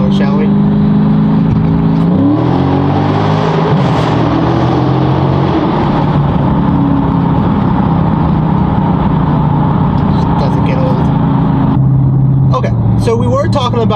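A 2015 Dodge Charger Scat Pack with a 485-horsepower 6.4-liter Hemi V8 accelerates hard, its loud engine note rising through gears with shifts and a steady roar, heard from inside with the exhaust dominating.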